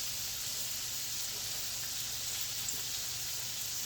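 Freshly hunted venison inner loin sears in a hot pan, a steady, even sizzling hiss held close and moderately quiet, with no talk over it.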